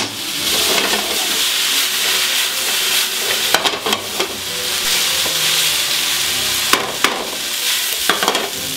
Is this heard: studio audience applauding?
no